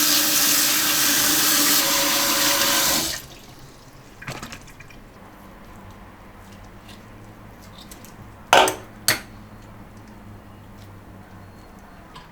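Running tap water pours loudly as beef pizzle and testicles are washed, then stops abruptly, leaving faint drips and a few short splashes and clunks at a sink.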